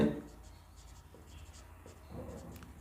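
Handwriting on paper while working through a maths statistics problem, faint scratchy pen strokes in short bursts beneath a speaking voice, close but quiet.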